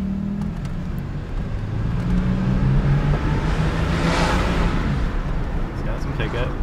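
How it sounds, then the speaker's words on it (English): A 1987 Buick LeSabre with a V6 pulls away, its engine and road noise rising into a steady broadband rush from inside the car, with a person talking over it. "taking off in a Buick La Sabre, 1987"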